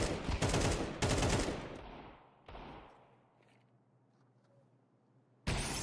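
Gunfire bursts in a Counter-Strike-style match: several loud, sharp shots in quick succession at the start, then a decaying tail and quieter game ambience, with one more abrupt blast at the end.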